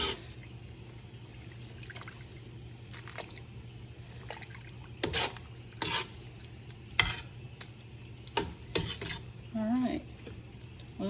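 Candied jalapeños are stirred in a pan, a soft sizzle underneath with a spoon scraping and clinking against the pan in scattered strokes.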